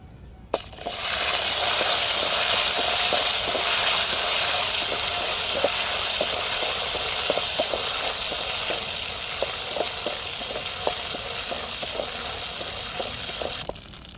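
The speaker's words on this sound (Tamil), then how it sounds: "இப்போ நெய்யிலேயே பருப்பு பழத்தையெல்லாம் வறுத்து பொங்கலில் சேர்த்துருவோம்." Lentils and fruit roast in ghee for Pongal with a loud, continuous sizzle dotted with small pops. It starts abruptly, holds steady for about thirteen seconds, then cuts off, close up and with no voices.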